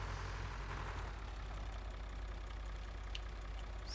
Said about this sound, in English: I couldn't hear y'all, because the tractor's so loud.